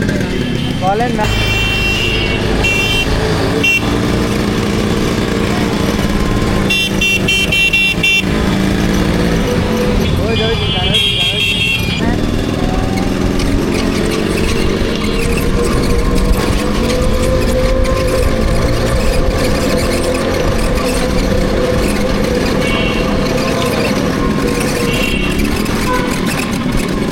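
A Yamaha RX100 motorcycle rides on a test drive, its mid-pitched engine running steadily under wind rush and traffic, with car horns tooting nearby and someone talking over it.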